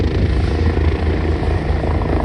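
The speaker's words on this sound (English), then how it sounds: "helicopters are not that loud in person" A helicopter in France circles overhead, its rotor thumping in a fast steady pulse, loud and close, with no talk.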